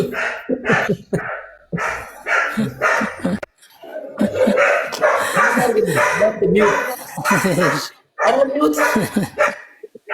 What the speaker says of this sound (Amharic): ውሾቹ በጣም እየጮሁ ነው ድምጻቸው።